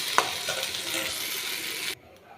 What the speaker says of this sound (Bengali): আর এখানে পাশে জল একটু গরম বসিয়েছি, গরম জলটা এর মধ্যে দিয়ে দেব।